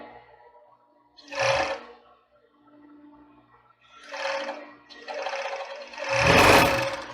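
A sewing machine stitches a children's bra in short, loud motor bursts separated by pauses, the last run longest and strongest, with no talk over it.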